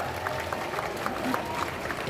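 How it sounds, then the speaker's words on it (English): A crowd claps and cheers in a dense burst of applause, steady and close throughout. "we might start with another big round of applause for Sakari."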